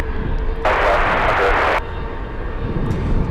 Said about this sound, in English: We have a lot of UPS planes, and now this is the second one to push for the afternoon takeoff push.